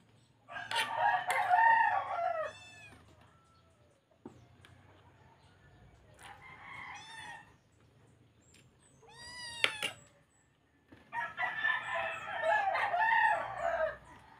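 A rooster crows loudly several times, long drawn-out calls separated by pauses, with cat meows and hen clucks mixed in nearby.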